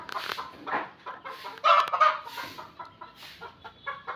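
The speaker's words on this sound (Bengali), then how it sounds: "মুরগিগুলো বাড়ির পিছনে কলা বাগান আছে, কলা বাগানে বের করে দিছি আর কি" Chickens let out into a banana garden behind a farmhouse cluck and squawk near the listener in uneven bursts, with one louder, sharper call rising above the flock partway through.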